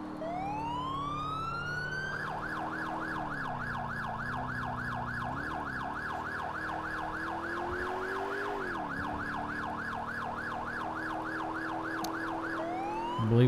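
A custom police siren in the video game GTA IV with the LCPD:FR mod rises in pitch, then cycles as a fast, loud, steady yelp, with a deep engine rumble under it throughout.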